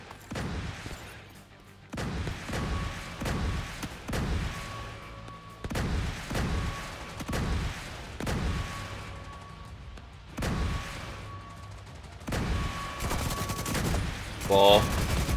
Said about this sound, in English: Missile turrets activating.